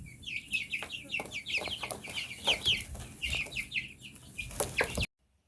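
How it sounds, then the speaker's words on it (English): Young chicks hatched from an incubator cluck and peep in a busy overlapping chorus. The calls are fairly faint but continuous for about five seconds, then cut off. "There's the chickens."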